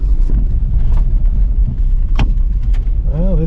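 A car drives along the road to a winter campground in Michigan, giving a loud, close, continuous rumble of engine and tires from inside the cabin with brief rattles and knocks. A short voice comes in at the end.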